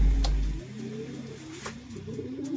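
Racing pigeons coo in low, throaty repeated calls at the loft, close by, with a brief low thump at the start and a few faint chirps mixed in.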